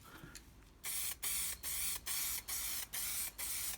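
Gloss black Montana Gold spray paint with a fan calligraphy cap hisses out in seven short, evenly spaced bursts, each a sharp close hiss, while an engine bay is being painted.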